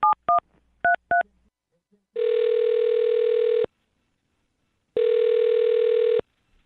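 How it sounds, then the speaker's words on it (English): Four quick touch-tone keypad beeps dial a phone number, then two long electronic ringback tones follow, separated by a pause of silence. "I'm going to dial her phone number right now"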